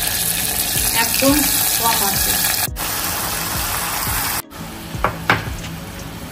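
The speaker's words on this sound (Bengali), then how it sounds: "আমি চিকেনটা হাঁড়ির মধ্যে দিয়ে দেবো," Marinated chicken for handi chicken dropped into a hot handi, sizzling and crackling steadily in the foreground while someone talks briefly over it.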